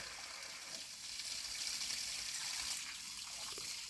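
Water running and splashing steadily as a person plays in it like a homemade waterfall, a continuous broadband wash close by with no talk.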